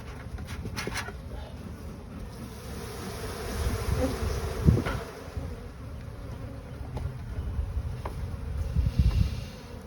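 A dense, low buzzing of many honey bees in a hive, continuous and close, swelling slightly at moments, with a few faint bumps and no speech.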